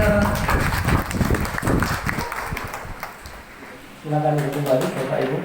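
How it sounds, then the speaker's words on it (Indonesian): Audience applause at a social teaching session, a burst of close, uneven clapping that fades out midway, after which a voice begins speaking. "Oke, beri tepuk tangan."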